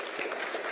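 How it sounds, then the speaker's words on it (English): A brief burst of steady clapping from an audience in the chamber at an Atlanta City Council meeting. "That deserves some applause."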